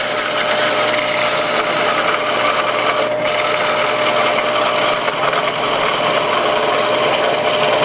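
A wood lathe turns a natural edged bowl while the inside is roughed out, giving a loud, steady broadband whir and scrape of the gouge cutting, continuous throughout with only a brief dip.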